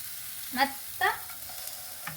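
Chopped carrot, capsicum and green peas being stirred in a pan for an oats dish, two brief scraping stirs over a faint background sizzle, then a softer third stroke.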